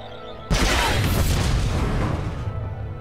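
A Cherka R6000 blaster rifle shot from Star Wars: The Old Republic, a sudden loud booming blast that hits at once and then rumbles on with a long, gradually fading tail; no speech.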